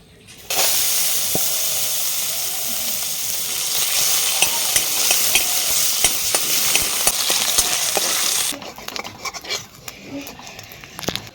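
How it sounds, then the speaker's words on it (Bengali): Fish oil saved from rupchanda pomfret heating in a wok before the fish goes in, a loud steady sizzle starting abruptly and holding for about eight seconds before dropping to a quieter crackle. "এবার মাছটা ভেজে নেব তো তেল দেওয়ার আগে কড়াইতে যে এই যে মাছের তেলটা পেয়েছিলাম তো সেইটা আগে দেব"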